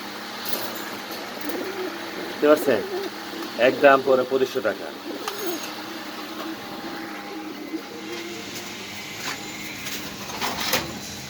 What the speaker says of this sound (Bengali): এখানে আছে সুন্দর একটা কবুতর